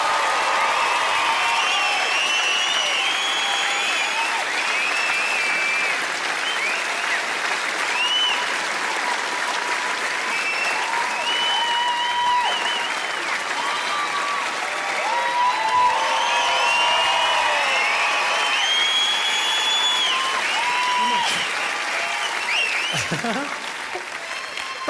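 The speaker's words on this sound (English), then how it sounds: "That simple act of applauding, it's everything you work for as a performer" A comedy show audience in Glasgow bursts into sustained, dense applause for Jimmy Carr, with light cheering mixed in. The clapping stays steady for about twenty-five seconds before easing off at the end, with some talk faintly underneath.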